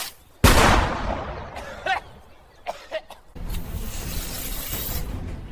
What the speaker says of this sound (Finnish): Saatana, älä ammu raketteja vielä, perkele!